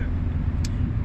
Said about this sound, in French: Désolé pour le bruit parce que là on est en voiture